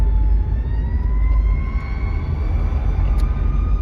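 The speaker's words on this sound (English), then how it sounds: "whoa, bro, there's a lot of traffic here today. A lot of sirens." Emergency vehicle sirens wail through busy traffic, their gliding tones running steadily and loudly over a heavy low rumble of road noise, with no talking.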